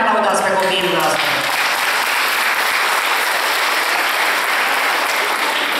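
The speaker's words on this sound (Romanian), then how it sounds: "Hai să-i aud cum îi aplaudați pe copiii dumneavoastră" A concert audience applauds a children's dance group at an Romanian folk ensemble's summer show: dense, steady clapping, loud and close, with a few early voices over it, sustained without a break.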